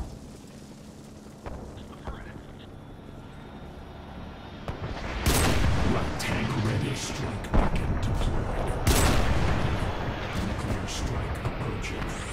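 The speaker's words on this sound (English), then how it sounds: "Airstrike en route." Airstrike explosions in Renegade X arrive as a string of heavy booms at irregular intervals over constant battlefield rumble, with players talking over the noise.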